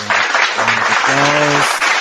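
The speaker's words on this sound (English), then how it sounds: "Round of applause." A short burst of studio applause on a hip-hop podcast, steady and even for about two seconds, with voices or tones sounding over it.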